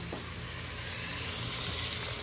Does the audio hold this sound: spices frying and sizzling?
yes